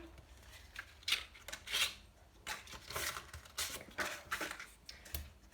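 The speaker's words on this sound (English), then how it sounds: "What you're going to need is a 12 by 12 page protector, and you're going to trim it down." Scissors trim a 12 by 12 plastic page protector for a shaker book, producing a run of crisp snips and crinkly rustles at close range, roughly one sharp cut every half second.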